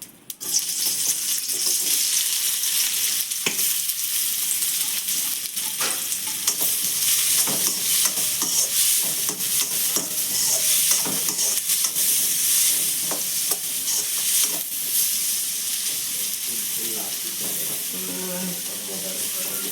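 Chopped onions fry in hot oil in a kadai, giving a steady, bright sizzle that continues throughout, close and fairly loud, with occasional clinks and faint water running from a tap near the end.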